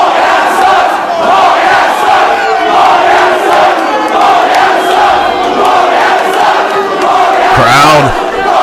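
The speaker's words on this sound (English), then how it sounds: "Crowd going at each other as this matchup invoking such emotions" A packed wrestling crowd shouts and cheers loudly and without pause during a heated Steen vs Daniels match, with overlapping voices from rival sections of fans.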